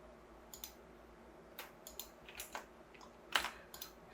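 Computer mouse clicks while sketching in Autodesk Inventor 2022, a scatter of sharp, close, quiet clicks at irregular intervals against a soft room background, with no talking.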